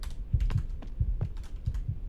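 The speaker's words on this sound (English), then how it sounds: "I heard the heart beating." In a ghost-hunting video game, a heartbeat thumps in steady double beats, three lub-dub pairs in quick succession, heavy and low, with faint clicking over a constant background hum.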